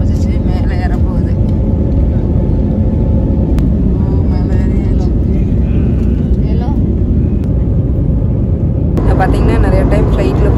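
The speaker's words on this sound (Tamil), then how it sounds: "பார்த்தீங்கன்னா ஃப்ளைட் ரன் ஆக ஆரம்பிச்சிச்சு. மேலே ஏற போகுது." Passenger airplane beginning its takeoff run, a loud steady engine roar and rumble heard from inside the cabin throughout, with people talking over it.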